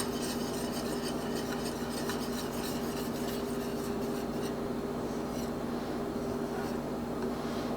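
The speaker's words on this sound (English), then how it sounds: "And we just got to stir it in." A spoon stirs a creamy from-scratch pasta sauce in a pot, a soft continuous scraping and swishing that stays steady, close and fairly quiet.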